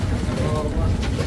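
A boat runs at sea on a single engine, its low motor rumble steady under wind noise, with a voice speaking over it.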